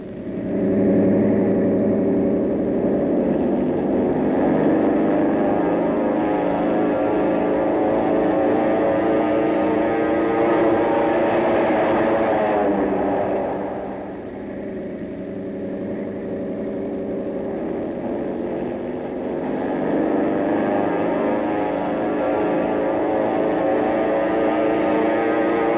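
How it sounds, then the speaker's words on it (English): Droning piston engines of a B-29 Superfortress bomber in flight, a continuous heavy hum that dips briefly midway and then swells back, steady and loud with no voices. "the planes were over the first of their targets and peeling off for the dive"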